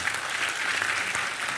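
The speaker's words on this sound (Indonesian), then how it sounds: "Kita semua tepuk tangan untuk Mbak Puan." Audience applause for Mbak Puan at a gathering, a dense steady patter of clapping from a crowd sustained throughout at even loudness, with no one speaking over it.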